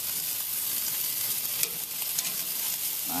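Chicken drumsticks sizzle steadily on a smoky grill, a continuous close frying hiss with a couple of soft clicks as pieces are turned.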